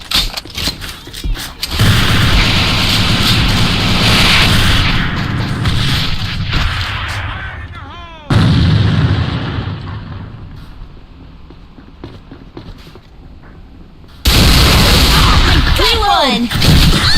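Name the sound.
grenade explosions in the video game AVA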